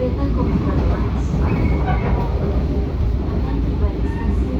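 A commuter train rumbles loud and close at an Indonesian station, a continuous heavy low roar of wheels and carriages while a voice announces over it.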